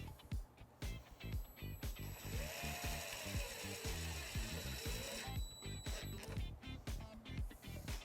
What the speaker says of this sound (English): we're going to ground it underneath our rear threshold panel using the provided self-tapping screw